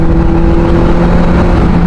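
A QJMotor SRK 600 RC inline-four motorcycle engine roars steadily and loudly up close, with a constant dense drone and no talking over it.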